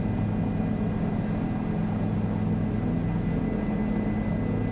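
A helicopter in Microsoft Flight Simulator 2020 drones steadily and continuously, a dense low rotor and engine rumble holding at an even level throughout with no talking.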